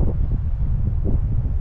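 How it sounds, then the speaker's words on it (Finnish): Strong wind buffets the microphone in open wilderness, a loud, steady low roar with gusting rumble and no other sounds. "Tuulee ainakin aika rajusti."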